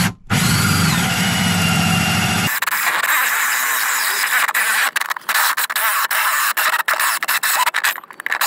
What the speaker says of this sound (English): go ahead and drill out the hole for the turret